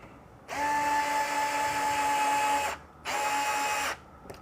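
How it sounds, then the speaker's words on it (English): Electric screwdriver driving an M3x25 screw into a Yokomo Rookie Speed RS 2.0 touring car kit, with two close, steady high-pitched motor whines, a longer run then a shorter one after a brief pause. "Now I'm glad I got the electric screwdriver out."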